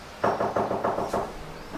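Five quick knocks on a door in a steady rhythm, fairly close and solid-sounding, followed by a short quiet stretch with a faint thump near the end.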